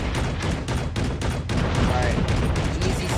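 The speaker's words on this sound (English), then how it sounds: "Unleash the missiles!" Missiles from a VTOL jet rain down in a Call of Duty match, a steady barrage of dull booms and blasts rolling under excited talk.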